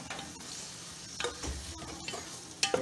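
Onions hiss and sizzle steadily in about a cup and a half of hot oil for a coconut fish curry. The frying stays soft and continuous, with occasional stirring clatters and a sharper scrape near the end.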